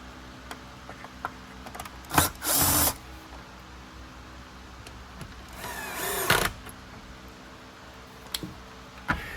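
Two short bursts of a power driver sinking a washer and screw for the light on a Simplicity Symmetry Riccar Vibrance vacuum during servicing, with quiet handling clicks and taps between them.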